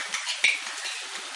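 Onions sautéing in a pan for a Tirunelveli-style onion pickle, giving a steady close hiss of frying with a scrape or clink of the utensil near the start, no talking.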